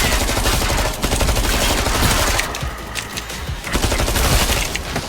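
Dense rapid gunfire from the video game Killing Floor 2, loud and continuous bursts of shots layered together with no pause throughout.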